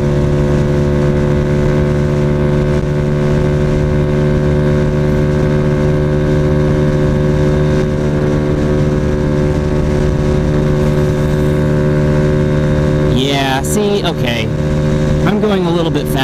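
A Honda Ruckus scooter engine drones loud and close as it accelerates, holding a steady buzzing tone that shifts and wavers near the end.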